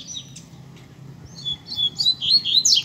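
Female papa-capim (coleiro) bird out in the bush giving thin, high chirps that grow busier toward the end, moderately close, over a low background hum.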